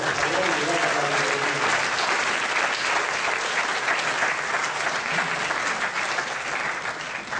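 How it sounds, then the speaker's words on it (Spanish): A conference audience at a university sports law event applauds the day's lecturer, a full, sustained round of clapping that runs steadily throughout and tapers slightly at the end. "Yo les pido un aplauso para nuestro conferencista de hoy"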